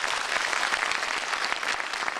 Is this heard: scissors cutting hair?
no